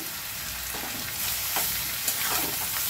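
Mutton keema, soaked in water beforehand, sizzling and frying in a pan alongside bay leaf, with a steady close hiss and a few soft stirring scrapes, no talking.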